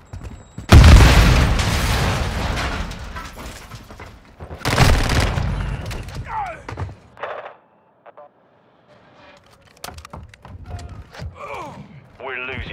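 Call of Duty Modern Warfare 2 multiplayer gameplay features a loud, close Semtex grenade blast followed by a second boom, then gunfire and game voice callouts.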